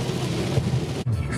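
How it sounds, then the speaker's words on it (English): Steady rain sounds close and loud for a moment during a drive to Melbourne Airport on a cloudy day, a dense even rumble and wash with a short dip near the end. "It's raining and very cloudy."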